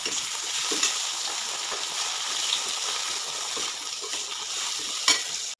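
Potatoes fry in oil with browned onion, garlic and chili, giving a steady bright sizzle with occasional stirring scrapes and small pops close by.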